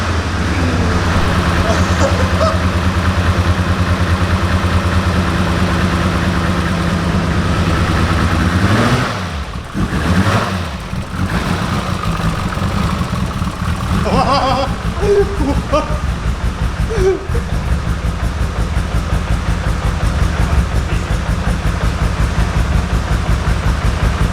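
A Nissan GT-R with an RB28 engine idles on its first start with a steady low rumble, dips briefly, then settles back into a rough, loud idle; voices are faintly audible underneath.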